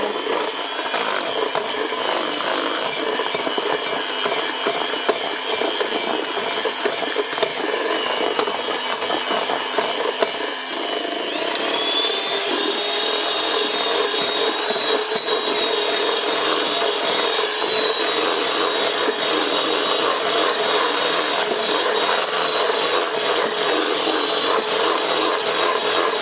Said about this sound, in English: Make sure you whisk till it's all, there's no lump.